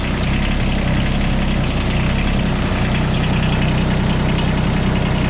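A John Deere X748 garden tractor engine idles steadily and loudly nearby, giving a constant droning rumble with a slight knocking vibration and no voices over it.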